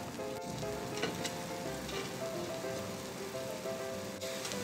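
Butter and beef slices sizzling on a greased Korean BBQ grill, a steady close crackle with faint tonal hum in the background and no talk.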